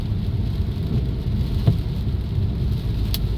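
Heavy rainstorm in Vientiane, a dense steady downpour with a low rumble of thunder underneath and a few sharper drip or splash accents, loud and continuous without any voices.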